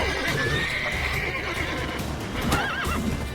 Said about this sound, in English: Stupid horse, get out of the way.